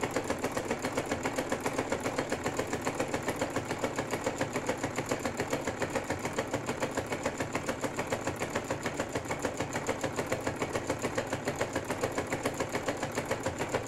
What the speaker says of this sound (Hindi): एक पैर की सिलाई पर हम दूसरी सिलाई लगाएंगे।